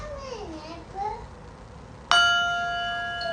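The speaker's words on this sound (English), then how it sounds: "Do not play the kalimba right now." Kalimba struck once, a bright ringing metallic tine with a sustained shimmering decay, following brief child chatter at home.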